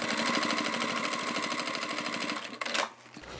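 A sewing machine stitches a seam on a toiletry bag, a fast even mechanical chatter running steadily up close before stopping abruptly near the end.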